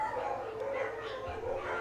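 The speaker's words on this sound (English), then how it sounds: "my dogs are just barking a storm up right now" Several dogs barking and yipping in a house nearby, a continuous muffled clamour with some howl-like tones and faint talk mixed in.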